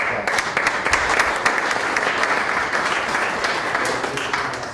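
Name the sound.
applause at a town board meeting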